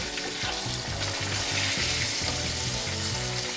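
Lane snapper and parrot fish fry in a pan with a steady, dense sizzle throughout, while a low, rhythmic tonal pattern, likely background music, repeats beneath the crackling oil.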